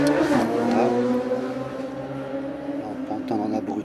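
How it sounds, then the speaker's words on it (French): A motorcycle engine revs loudly nearby on the street, its pitch climbing and wavering through several revs before easing off, then rising again near the end. "On peut entendre un abruti qui fait crier sa moto."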